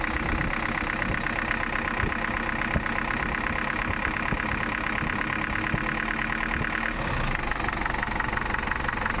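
An idling car engine knocks steadily with a rapid, repetitive tapping beneath a continuous rumble, close and fairly loud, with no voices.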